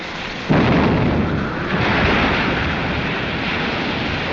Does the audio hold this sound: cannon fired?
yes